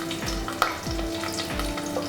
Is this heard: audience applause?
no